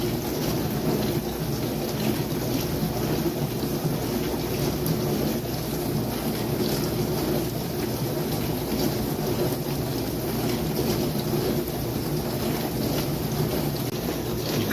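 Dishwasher sprayers running at full force during a leak check: a constant loud, rushing wash of water and motor hum that holds steady and unbroken throughout, with no voices.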